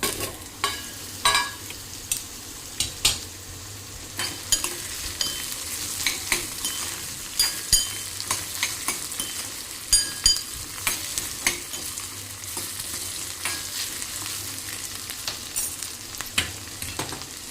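Vegetables sizzle steadily in a hot pan with a little water added for steaming, while a utensil scrapes and stirs now and then, the frying noise continuous throughout.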